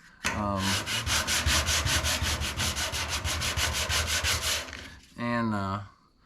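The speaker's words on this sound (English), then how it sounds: "Let's keep on sanding this a little bit." Continuous rhythmic sanding of body filler on a 1989 Ford F250 truck, a coarse rasping scrub in quick repeated strokes, close and loud, pausing briefly near the end before resuming.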